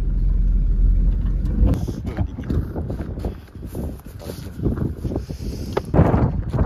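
A car rolls in to park near a dairy farm, its engine rumbling low and close under buffeting wind noise on the microphone, with irregular thumps and a voice speaking along the way.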